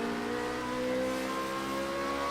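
A Formula Renault race car on a snowy track, its engine a steady close droning whine with a faint rise in pitch as it accelerates in third gear, no talk.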